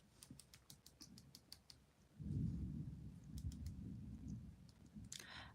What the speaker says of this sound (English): Oh, there's a thunderclap out there.